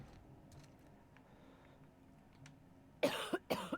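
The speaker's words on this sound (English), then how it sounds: "Oh, don't cough on me." A character in The Outer Worlds video game, a sick bay patient, coughs twice in a quick, harsh burst near the end, following quiet game ambience with faint mechanical clicks.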